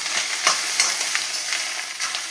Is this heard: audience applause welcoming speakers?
no